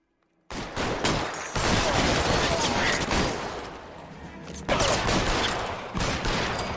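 Rapid gunfire from the video game LA Noire erupts after a brief silence, dense loud bursts of shots running continuously, dipping briefly and then surging again.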